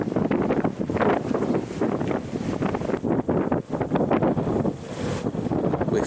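Strong wind buffets the microphone in heavy gusts on top of a railway viaduct, loud rumbling roar that rises and dips without pause.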